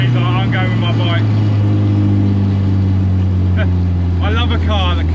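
A Ford Escort MK2 fitted with a 2.3 EcoBoost engine from a Mk3 Focus RS, heard from inside under hard acceleration as a loud, steady engine drone with rising whine, while people talk over it.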